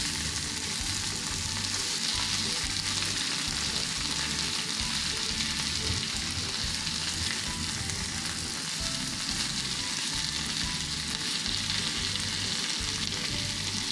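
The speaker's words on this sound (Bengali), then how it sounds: "এইভাবে মশলাটাকে সরিয়ে চিকেনগুলোকে ফ্রাই করে নেব" Marinated chicken pieces fry in a pan over a medium gas flame, a close, continuous loud sizzle and crackle that holds steady throughout with no talking.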